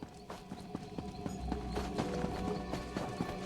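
Ordinary horse hoofbeats in The Elder Scrolls Online, a steady close clip-clop trotting rhythm over a faint game ambience, with no speech.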